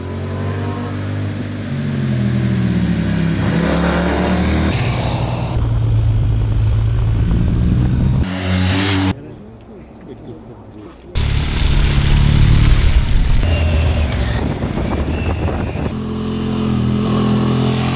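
A motorcycle riding on Metzeler Roadtec 01 SE tyres, with a loud steady engine and road roar, rising and falling revs, a brief near-silent gap midway, and a voice talking over it.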